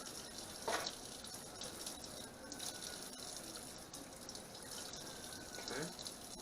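Cold water is poured over a smoked salmon fillet to rinse off leftover salt, giving a soft, steady splash and trickle at close range with a few louder gushes.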